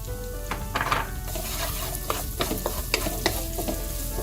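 Onions fry with browned garlic in a pan, a close, continuous sizzle broken by regular spatula stirring strokes and light scrapes, with no talk.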